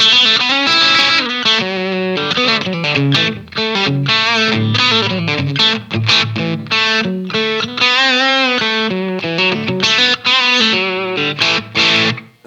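Electric guitar, a PRS SE Custom 24 Quilt Top with its humbucker split, gives a spanky, Tele-like tone with some bite and plenty of reverb, playing a busy run of close, ringing notes and chords with no talking.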